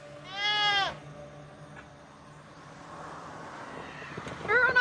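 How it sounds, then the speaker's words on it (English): Goats in an argan tree plantation let out one loud, wavering bleat near the start, then fainter bleats follow near the end over outdoor ambience and a background voice. "A tree full of goats."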